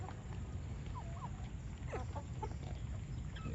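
Backyard chickens, including young pullets, clucking softly in short scattered calls over a steady low outdoor rumble, faint and somewhat distant with no talking.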